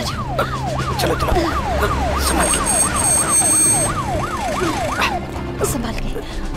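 An ambulance siren wails in a steady rising-and-falling cycle, fairly close and prominent over a vehicle's road rumble, with a faint voice and brief clatter in the background.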